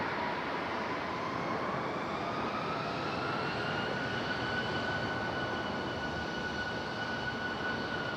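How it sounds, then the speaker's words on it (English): American Airlines Airbus A321 arriving at Raleigh-Durham from Charlotte, a steady broad jet roar with a slowly shifting engine whine, moderately distant and continuous, no voices. "Here's our A321 American coming in from Charlotte."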